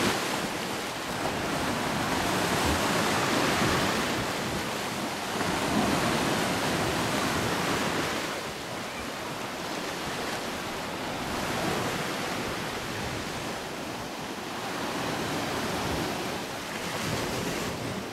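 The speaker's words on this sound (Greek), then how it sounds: "Βρισκόμαστε στο Θαλάσσερνα, μια παραλία πάρα πολύ όμορφη." Surf rolls onto Falasarna beach on the west coast of Crete as a continuous broad wash of breaking waves, swelling and easing in slow surges, with some wind buffeting the microphone.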